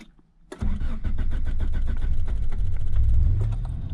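A car engine starting in frosty weather: brief quiet, then the starter cranks in a rapid rhythmic chug before the engine catches and settles into a loud, rough close-up idle.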